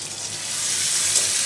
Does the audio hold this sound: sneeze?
no